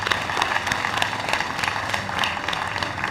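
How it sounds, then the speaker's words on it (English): Crowd applauding a nurse being honoured at a vaccination week launch event, continuous dense clapping at a steady level throughout. "please let us also give a resounding round of applause for Nurse Wendy Lillian"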